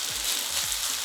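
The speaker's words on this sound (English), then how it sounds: "that's why you want to hear that sizzle" Hash browns sizzle in a frying pan with a dense, steady crackle and hiss, with a few soft low bumps underneath and no talking.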